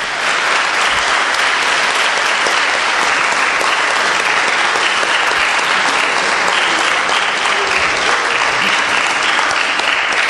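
Sustained, loud applause from an audience at an award ceremony, continuous dense clapping filling the whole stretch without pause, with no speech over it.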